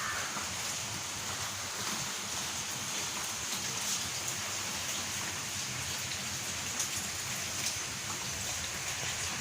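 Steady rain falls in a village, a dense, even hiss of drops hitting the ground and surfaces that continues unbroken throughout, with no voices.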